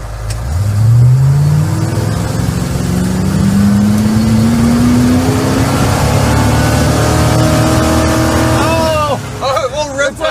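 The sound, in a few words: car engine revving to rev limiter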